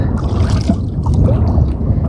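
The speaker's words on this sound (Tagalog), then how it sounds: "lumalakas na talaga yung hangin malakas na yung habagat" Strong southwest monsoon wind blows across a fishing boat at sea, a loud, steady rush and buffeting on the microphone that stays near and constant throughout, with no voices.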